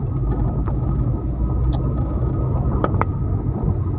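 Steady engine rumble and road noise from inside a moving car on a city road during a family outing, continuous and fairly loud, with a few faint clicks and no clear talk.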